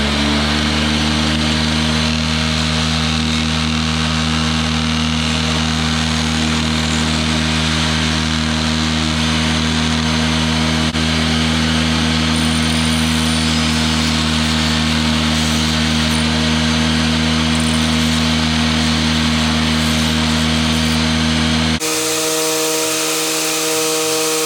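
Old metal saw blades are power-sanded with 80 grit sandpaper, a loud continuous motor drone and grinding hum that holds steady throughout, then abruptly changes pitch near the end.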